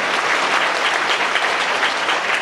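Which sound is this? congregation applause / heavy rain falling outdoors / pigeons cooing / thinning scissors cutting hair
congregation applause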